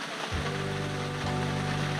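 Steady rain falls on a sailboat at sea during an Atlantic crossing in light wind, giving a dense, even hiss with a low rumble underneath that runs without a break.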